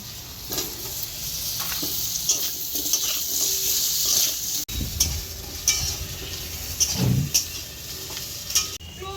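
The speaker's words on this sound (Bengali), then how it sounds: "আমি মাছ ভাজা তেলে আলুগুলো দিয়ে ভেজে নিব" Close sizzling of potatoes frying in oil left over from frying fish, with intermittent stirring and scraping of a utensil against the pan, no talking.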